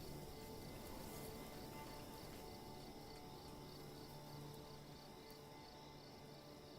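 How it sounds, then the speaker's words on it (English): Crickets chirp at night in the medieval strategy game Manor Lords, a faint, continuous layered trill of insects with no one talking over it. "You can hear all the crickets and stuff,"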